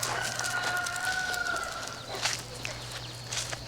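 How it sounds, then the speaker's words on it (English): Chickens cluck and crow nearby outdoors, with a rooster-like call rising over a steady low hum and a few footsteps. "Look out, chickens."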